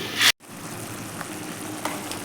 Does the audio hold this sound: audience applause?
no